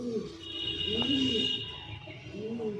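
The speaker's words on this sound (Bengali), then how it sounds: "এই আরেক জোড়া আছে পিওর দাসু লাইনের পায়রা" A pair of pure Dasu line pigeons, a male and a female, give soft, low rolling coos, swelling in several repeated phrases at moderate volume close by, over a steady faint high background tone.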